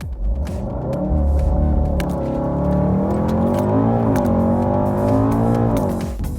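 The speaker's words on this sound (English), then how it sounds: "the last thing I want to try before we leave the workshop is launch control" Volkswagen Golf supercar built up in a workshop, launching hard under launch control with a DSG gearbox: a loud, close engine roar with rising harmonic pitch that climbs steadily and holds strong for the whole run, no talking.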